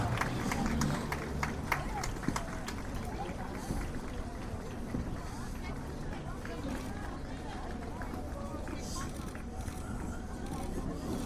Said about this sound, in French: Vos applaudissements pour Ornella Messana.